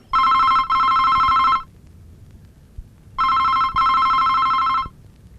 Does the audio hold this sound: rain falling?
no